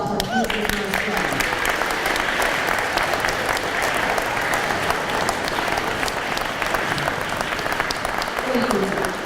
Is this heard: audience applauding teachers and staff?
yes